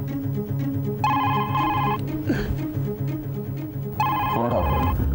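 An old-style telephone bell rings in two loud, rapid trilling bursts, each about a second long, over a steady low background with brief sounds in between.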